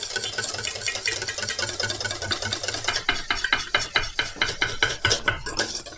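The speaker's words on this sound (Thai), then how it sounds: "แล้วก็ตีต่อค่ะ" Eggs whisked in a bowl for tiramisu after coming off a hot water bath, a close, brisk rhythm of fast metal whisk strokes against the bowl that grows sharper and more evenly spaced partway through.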